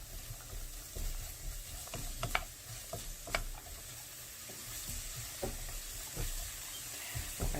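Garlic stir-frying in scallion oil: a faint continuous sizzle broken by repeated light clicks and scrapes of a utensil moving through the pan.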